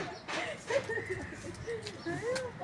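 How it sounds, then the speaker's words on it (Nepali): Pigeon cooing beside a temple, several soft, low, rolling coos spread across a few seconds, set against faint outdoor background noise and muffled sounds. "मन्दिरको छेउमा परेवा आयो"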